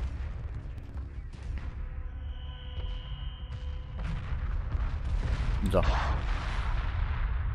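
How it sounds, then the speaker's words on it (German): Spaceship weapons fire in the space strategy game Homeworld, a run of booming artillery-like blasts with a sustained tone and a sweeping burst near the end, heard faintly under a speaking voice. "Da hat er nochmal geschossen, obwohl er schon zerstört war."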